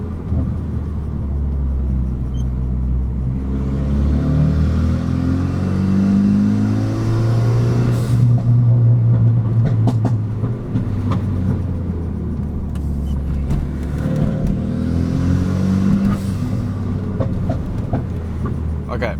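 Renault Megane RS RB8 project car carving a canyon road, its engine loud and close as it revs up and down through repeated rising and falling pulls, with road and wind noise underneath and some talking.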